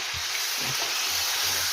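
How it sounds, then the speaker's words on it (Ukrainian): Meat searing in a frying pan for a stew, giving a steady close hiss and crackle of hot fat with faint low clinks, while nobody speaks. "І отак буду його легенько обсмажувати зараз."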